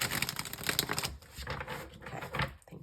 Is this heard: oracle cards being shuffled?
yes